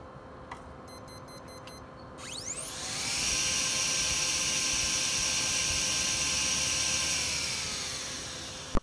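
A laser polygon mirror spins up to 28,000 rpm, its motor rising from faint ticking into a loud, steady high-pitched whine that holds unbroken, with no voices.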